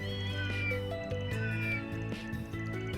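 A stray cat in the Old Town of the video game Trails through Daybreak meows several times in short rising calls over a steady layer of game music.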